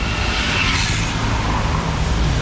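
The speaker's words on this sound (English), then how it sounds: "actually this traffic is kind of loud, to be honest" Loud road traffic fills a street in Macau on Avenida de Demétrio Cinatti, a dense, continuous roar of passing cars and other vehicles with no break.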